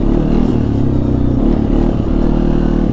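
A 2016 Arctic Cat XC 450 4x4 ATV with a Kymco-built 450 engine and Carlisle tires, driving through snow: a steady, loud, close mid-pitched engine drone with rattling clatter, held continuously without talk.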